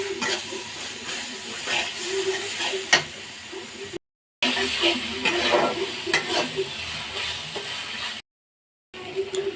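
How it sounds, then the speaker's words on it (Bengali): Spice masala with ground cumin sizzles and is stirred steadily in a pan while being cooked down for a kalibaus and rohu fish curry, a close, soft frying hiss broken by scraping strokes of the spoon. "মশলাটা ভালো করে কষে নিচ্ছি"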